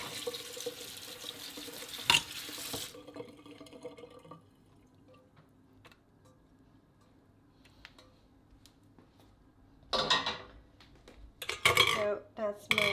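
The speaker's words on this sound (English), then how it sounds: "I'm going to run some cold water." Cold tap water gushes steadily over cooked beans for about three seconds and then cuts off, leaving a quiet stretch before dishes and pans clatter toward the end.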